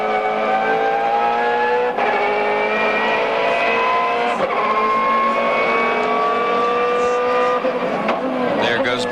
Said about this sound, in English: This is the second place car in GT, the number 6 PTG machine in the hands of Boris Said.